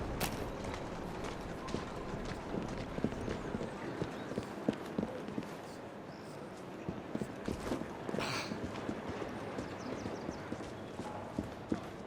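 Rapid hoofbeats of a horse at a trot in Assassin's Creed Syndicate, steady clopping rhythm under a busy background, continuing throughout at moderate volume.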